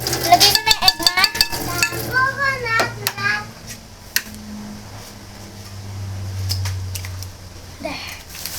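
An egg stirred into a hot pan while cooking a burger at home, brisk scraping strokes over a light sizzle, close, giving way to a low hum and faint clatter, with a voice briefly heard.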